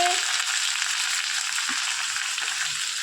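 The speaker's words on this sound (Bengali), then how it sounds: "এখানে এখন পেঁয়াজ দেওয়া হচ্ছে।" Onions sizzle steadily in hot oil in a home kitchen pan for a spicy pasta, a continuous close hiss with faint scrapes underneath.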